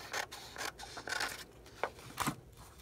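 Scissors cutting paper pages taken from assorted books, a handful of short crisp snips and slices spaced unevenly over a few seconds, close and fairly quiet, with no talking.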